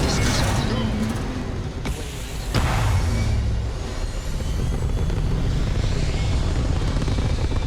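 A spaceship lifts off in the video game Starfield, a loud continuous engine rumble and roar that holds steady throughout, with a couple of sharp bursts partway through and speech mixed in.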